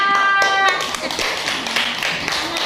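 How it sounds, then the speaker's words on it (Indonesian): A class of children claps for a couple of seconds, a burst of applause that starts strong and tapers off, with a voice briefly at the start. "tepuk tangan untuk Tirta."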